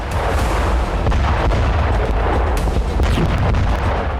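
Russian artillery fire near Kherson in war footage: a loud, dense, continuous rumble of booms and blasts with no pause throughout.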